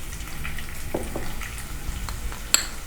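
Asafoetida, ginger and spices dropped into hot ghee for a moong dal kachori filling, giving a soft sizzle mixed with stirring and light clinks of a spoon against the pan, ending in one sharp metallic tick.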